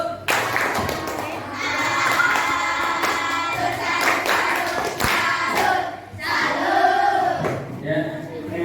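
Classroom group performs the 'tepuk salut' clapping chant after a presentation, rhythmic hand claps mixed with children's chanted voices, loud and close, with a brief dip near the end before resuming.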